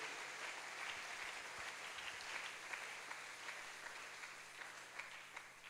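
Church congregation applauding during a Sunday service, a steady wash of clapping from many hands, faint and distant, lasting several seconds.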